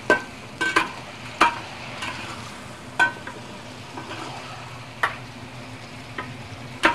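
Stir-fried beef lifted out of a hot wok, a continuous low sizzle punctuated by sharp metallic spatula scrapes and clinks at irregular intervals, near and fairly loud.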